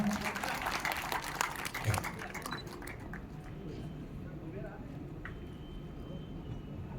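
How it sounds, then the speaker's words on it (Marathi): A crowd at a political conference claps in a burst of applause that fades after a few seconds. The clapping is fairly distant and quiet, and a voice speaks over the room afterward. "जोरदार टाळ्या होऊन जाऊ द्या"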